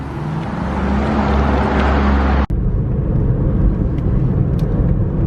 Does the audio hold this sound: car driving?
yes